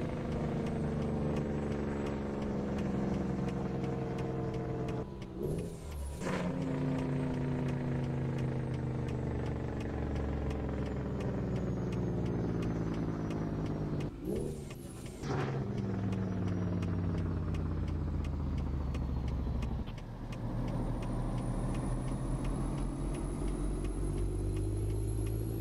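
A custom classic truck in American Truck Simulator drives steadily, its deep engine drone rising and falling through gear changes, with brief dips near the sixth and fifteenth seconds and a whine higher up toward the end.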